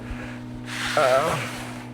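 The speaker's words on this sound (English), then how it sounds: "I'll maybe just touch it with a little sandpaper, clean it up just so it looks kind of glossy" Fine sandpaper rubs over a premium USA-made fixed blade knife in a knife workshop, making one short, close, dry scraping stroke over a low steady hum.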